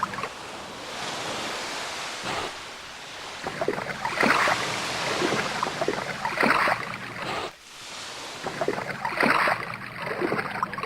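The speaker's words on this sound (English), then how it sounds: "first we gotta scoop out all the water with a wooden shoe" Water is scooped from a leaking boat with a wooden shoe in a video game: repeated sloshing splashes at an uneven rhythm over a steady wash of sea and waves.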